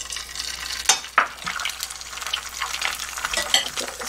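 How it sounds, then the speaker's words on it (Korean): An egg fries in a pan for toast with steady sizzling, with a few sharp clinks and scrapes near the start, no talking. "제가 계란 한 개를 후라이 하겠습니다"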